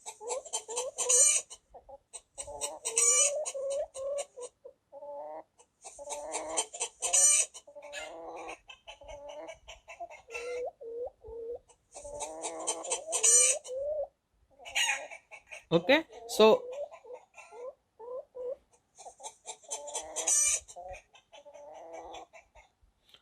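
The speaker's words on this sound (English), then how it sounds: "let us also try for rooster crowing" A rooster crows repeatedly, loud and close, with clucking between calls and a brief spoken word partway through.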